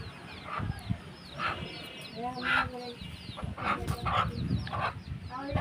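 A hen clucks softly and repeatedly while sitting with her many newly hatched chicks, the calls close by and broken up with a person speaking nearby.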